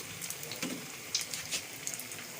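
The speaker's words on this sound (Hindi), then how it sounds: "ऑयल हमने बहुत गर्म कर लिया था, बहुत तेज़ गर्म है ये। बस अब इसको थोड़ा सा फ्राई करेंगे" Bread-coated chicken kebabs frying in very hot oil give a quiet, steady hiss with scattered soft crackles and pops.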